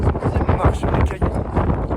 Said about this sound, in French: Il y a du vent à poulette.